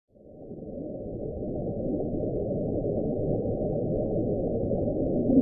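A NOAA underwater ocean recording from 1999 known as Julia, a deep, continuous low rumbling drone that slowly swells in strength, with no talk.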